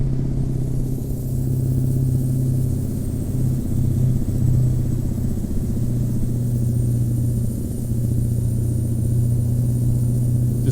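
The diesel engine of a Mack Ultraliner truck, hauling a B-double tipper in American Truck Simulator, hums in a loud, steady, deep drone that barely changes throughout, with no one speaking.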